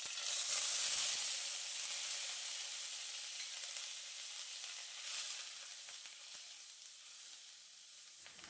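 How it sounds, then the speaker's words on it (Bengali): Onion paste hits hot oil with a black cumin tempering, a bright frying sizzle that starts strong and slowly settles into a softer steady hiss, with no talking. "ফোড়নটা একটু ভেজে নেওয়ার পর আমি পেঁয়াজ বাটাটা দিয়ে দিচ্ছি।"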